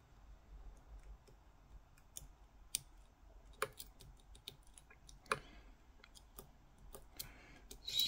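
Faint, sparse clicks of lock pins setting inside a Ruko mortice cylinder being picked, scattered irregularly over a quiet background with occasional sharper ticks.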